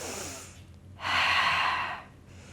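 A long, forceful breath out during a Pilates abdominal exercise, one steady rushing exhale lasting about a second, close to the microphone, framed by quieter breathing before and after.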